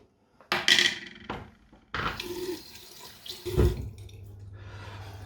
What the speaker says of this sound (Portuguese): eu só vou molhar um pouco o rosto, molhar o pincel e já começar a fazer a espuma aqui do sabão